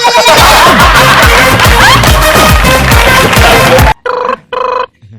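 A telephone rings in a comedy sketch, its two short bursts sounding clear and loud right after a stretch of busy, dense music.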